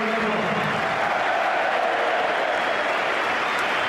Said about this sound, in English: Applause from he who must be obeyed, reciprocated by the player being replaced